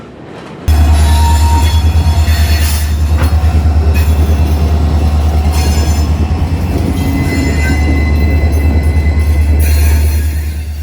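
A Florida East Coast freight train on the Medley lead rolls past close by with a long string of new 19,000-series Duramax hopper cars, a loud constant roar of wheels and rumble with squealing metal and rhythmic clatter after an abrupt start.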